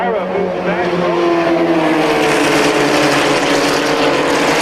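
Formula Vee race cars accelerating after a restart, a loud continuous engine whine rising in pitch as the pack passes close by, with a commentator talking over it.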